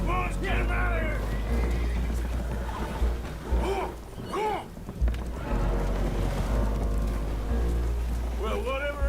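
Spooked horses whinny and neigh repeatedly aboard a boat taking on water in Red Dead Redemption 2, loud, overlapping cries over a low engine-like rumble with game voices speaking.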